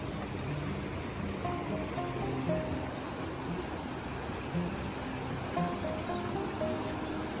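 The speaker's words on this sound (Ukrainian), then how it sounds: "Тут протікає горна річка." Steady rushing water of a fast mountain river near Uzhhorod, a constant broadband roar with no pauses, close by and fairly loud.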